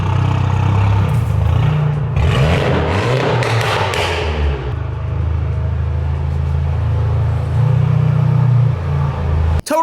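A big-turbo Volkswagen GTI with a full custom exhaust rumbles close by in a deep, steady idle. Midway comes a brief rise with clattering, then it settles back to the low drone.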